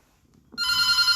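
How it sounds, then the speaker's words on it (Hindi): A phone starts ringing after a moment of near silence, a bright electronic ringtone with steady repeating tones, close and loud with no talk over it. "1 मिनट भाई, फोन आ गया और इम्पोर्टेंट है"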